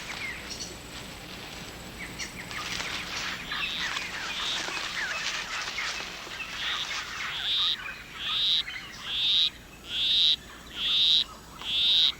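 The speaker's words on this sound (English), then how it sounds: "With his monotonous song, he will try to entice her to follow him under a leaf where they'll mate." A male poison arrow frog in a rainforest calls his courtship song: a monotonous series of regular, evenly spaced high chirps that starts about two-thirds of the way in and grows louder, over a dense background of insects and forest ambience.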